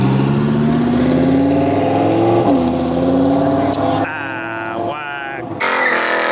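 A McLaren 600LT engine revs up in rising sweeps and then settles, loud and close at a gas station car meet, with voices talking over it.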